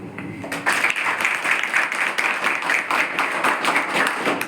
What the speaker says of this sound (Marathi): टाळ्या चांगल्या वाजवायच्या.